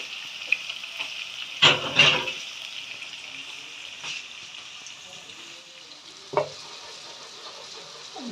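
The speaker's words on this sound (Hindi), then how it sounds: "तीनों चीज़ों की मैंने पेस्ट बनाई है, इनको अच्छी तरह भून लेंगे" Onion, garlic and ginger paste frying in oil for aloo matar, a steady close sizzle with a few sharp stirring scrapes and clatters near the start and one later, no talk.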